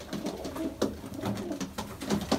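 Pigeons of Mardin breeds coo in soft, repeated throaty rolls, several overlapping calls rising and fading close by with a little rustling between them.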